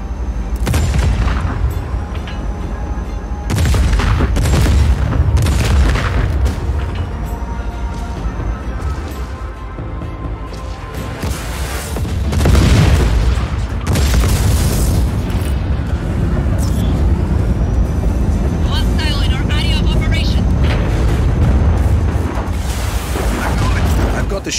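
Heavy warship cannon fire in the action game Just Cause 4, several deep booming blasts spaced seconds apart with rumbling tails, loud and close amid ongoing engine and battle noise.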